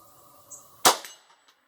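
A single sharp crack from a Rossi .22 WMR rifle, close and brief with a quick ringing decay, preceded by faint quiet background.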